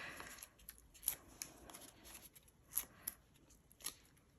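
Scissors trim the corner off a handmade card. Several quiet, crisp snips come at an uneven pace, close and alone.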